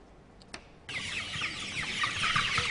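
A flock of four- to five-month-old broiler chickens at a poultry farm in Aba bursts into busy, overlapping clucking after a quiet start with a single faint cluck, carrying on close and continuous.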